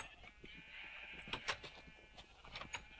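Sheep in the video game Minecraft give a few faint, quiet bleats at a farm, scattered across a few seconds with no talk.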